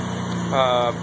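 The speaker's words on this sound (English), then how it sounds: "it's a naturally aspirated stock port S4 engine" A Mazda RX-7 with a naturally aspirated stock-port S4 rotary engine fitted with an S5 intake runs steadily and close for about a second, swelling briefly, with a voice speaking over it.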